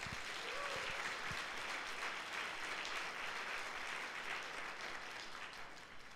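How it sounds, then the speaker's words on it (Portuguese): Congregation at a Sunday church service breaking into sustained applause, a steady wash of clapping from many hands that holds for several seconds before tapering slightly. "Dá um aplauso a Jesus."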